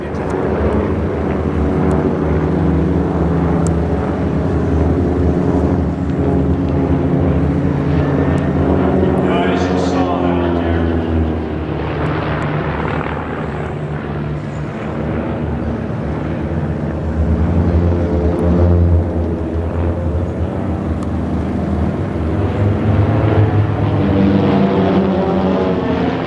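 A stunt airplane flies its routine at the West Milford air show, its engine droning steadily and loudly throughout as an announcer talks over it.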